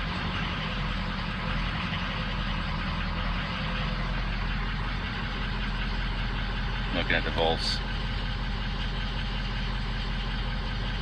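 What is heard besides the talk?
truck engine idling erratically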